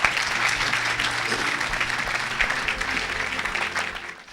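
A church congregation claps in sustained, dense applause that fills the room evenly throughout, with a low hum beneath and a few voices faintly mixed into the crowd.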